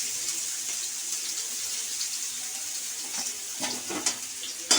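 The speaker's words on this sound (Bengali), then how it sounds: "এর মধ্যে আমি পেঁয়াজ কুচিটা দিয়ে দিলাম।" Chopped onion sizzles in hot oil left from frying potatoes, a steady, soft crackling hiss that continues evenly with a few brief louder pops near the end.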